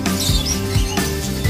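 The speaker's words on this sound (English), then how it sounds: "So we have love birds." Lovebirds in a farm aviary chirp with short, repeated high calls over a steady, loud background hum.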